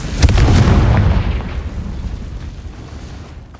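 Confringo blasting spell exploding in Hogwarts Legacy, a loud close boom that hits at once and then rumbles and fades away over several seconds, with no talk.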